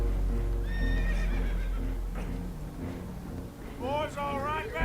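Spooked horses neighing and whinnying in Red Dead Redemption 2, shrill whinnies at the start and a louder cluster near the end, over hoof clatter, creaking boat and rushing water aboard a damaged boat taking on water.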